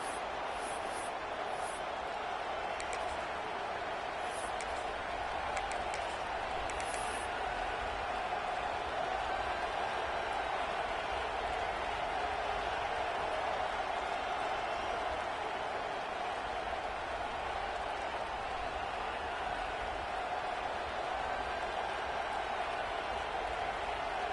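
A football stadium crowd keeps up a steady, distant roar of cheering and noise for the whole stretch, with faint high whistles early on.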